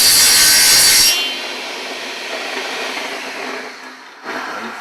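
Wood scrapes and rubs loudly at first, then settles into a quieter, continuous dragging and shuffling of a wooden piece.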